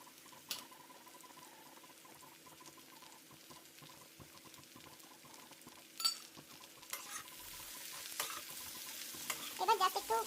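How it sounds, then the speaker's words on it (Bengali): Chicken frying with onion and capsicum in a pan: a quiet sizzle with occasional stirring scrapes that grows louder and busier toward the end. "ওই পেঁয়াজ ক্যাপসিকাম সব কিছু দিয়ে একটা ফ্রাই চিকেন মতন বানিয়ে রাখলাম"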